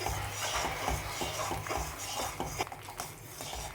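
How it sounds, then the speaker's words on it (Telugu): Semolina being stirred into upma in a pan, with a steady scraping and clinking of a spoon against the metal, close and continuous, brief taps standing out near the end. "మనం ఇలా కలుపుతూనే మనం నూక వేస్తూ ఉండాలి."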